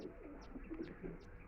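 Madrasi and Kalpora Kaldom flying pigeons coo softly in a low, rolling murmur, with a few faint higher chirps and a steady background hum.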